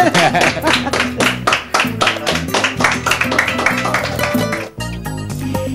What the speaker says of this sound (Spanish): vamos a aplaudirle a Elvira, que lo ha hecho muy bien.